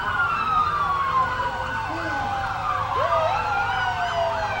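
Many police car sirens wail together in a street parade marking a police department's 150th birthday, overlapping rising and falling tones that sound loud and steady over low engine rumble and crowd noise.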